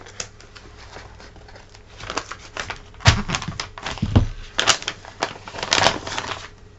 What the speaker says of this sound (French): Pour éviter de le déchirer, je préfère couper l'enveloppe avec les ciseaux